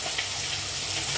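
Hot mustard oil sizzles and fries steadily in a pan of Morola fish mustard curry, a close, continuous crackling hiss with no talking.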